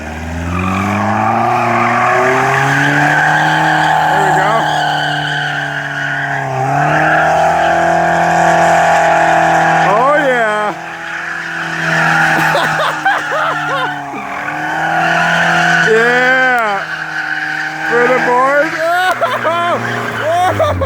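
A car drifting and understeering, its engine droning loud and steady while tires squeal in long wavering bursts through the middle and later passages, with people talking over it.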